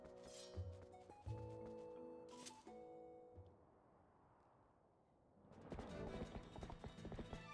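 Epona, the horse in the Zelda: Twilight Princess video game, sounds in rhythmic clip-clopping hoofbeats and a whinny amid chiming game music tones, with a brief quiet lull before busier hoof and effect sounds return.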